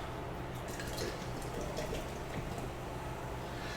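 A drink being poured close to the microphone: a steady liquid trickle with scattered drips and splashes, running continuously for a few seconds over a constant low background hum, with no talking.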